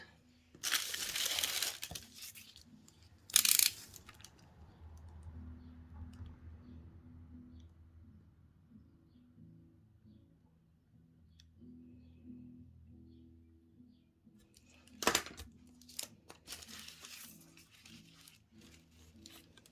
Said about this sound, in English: Now, I'm going to cut a slit between the two paws of the kangaroo.